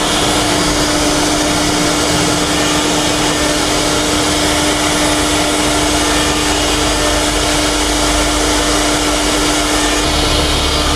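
A 1525 AC servo CNC machine runs a design, giving a loud, steady mechanical whine with a constant tonal hum that shifts slightly near the end.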